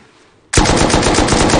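M2 heavy machine gun in the game Rust opens fire after half a second of near-quiet, a loud, sustained, rapid burst of shots that continues to the end.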